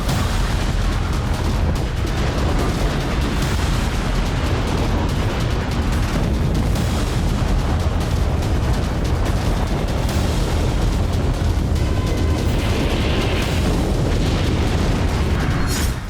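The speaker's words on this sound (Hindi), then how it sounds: "किम जोंग ने जापान सागर में एटम बम ले जा सकने वाली बैलिस्टिक मिसाइल दागकर" A North Korean ballistic missile capable of carrying a nuclear bomb is launched over the Sea of Japan. Its loud, continuous rocket roar holds steady and unbroken throughout.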